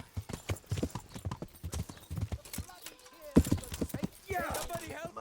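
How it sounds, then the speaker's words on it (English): Horse hooves clip-clop in the medieval video game Kingdom Come Deliverance, a quick close rhythm of hoofbeats under shouting voices, ending with a brief whinny-like sound. "That horse of yours nearly trampled me to death."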